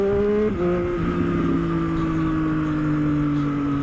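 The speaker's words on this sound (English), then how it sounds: "My goodness, I love how this bike sounds." A motorcycle engine drones steadily while riding on a California freeway, its pitch dropping after a gear change and then holding a smooth, loud hum with wind noise.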